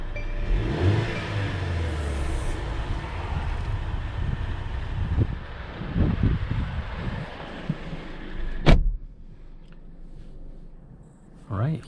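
A 2021 Mercedes-Benz GLC Coupe on an evening test drive, with steady road and engine rumble plus wind noise from inside the cabin, a brief sharp bang near the end, and a voice talking over it.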